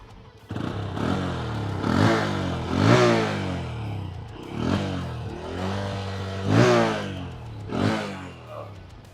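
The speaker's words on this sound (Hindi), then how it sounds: "आपको क्विकली इन दोनों मोटरसाइकिल्स के एग्जॉस्ट नोट को सुनाता हूँ। तो शुरुआत करते हैं CB 125 हॉर्नेट के साथ।" A Honda CB125 Hornet 125cc motorcycle revs repeatedly from idle, each throttle blip rising and falling in pitch, about five close, loud surges over a low idling thrum, with no talking.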